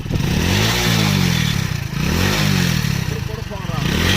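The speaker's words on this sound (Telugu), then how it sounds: "సార్ వెహికల్ స్టార్ట్ చేయండి. రైట్ చేయండి" A Hero Passion motorcycle engine starts and revs repeatedly, the rising and falling engine note loud and close, with a voice speaking over it.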